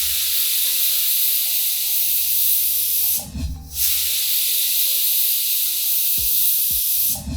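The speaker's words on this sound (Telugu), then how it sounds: "రెండు విజిల్స్ వచ్చినాయి, మనం కుక్కర్ ఆపేసేయచ్చు" Pressure cooker on a high stovetop flame with its weight on, hissing steadily as it vents steam, with a brief pause midway before the loud whistling hiss resumes and runs to the end.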